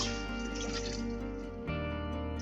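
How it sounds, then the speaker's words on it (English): Boiled water poured back and forth between two containers, a continuous close liquid pour and gurgle with a brief break and shift in tone near the end. "you're going to pour the water back and forth between the containers"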